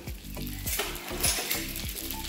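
Okra sizzles in a little oil in a pan while a spoon scrapes and clinks through it in quick repeated strokes, a close, steady frying hiss under the rhythmic stirring.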